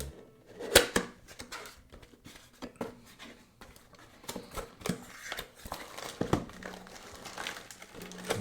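Packaging of a boxed Dragon Ball Z Solid Edge Works Majin Vegeta figure being opened, with close, quiet crinkling, tearing and tapping of cardboard and plastic in irregular bursts, louder near the start and again around the middle.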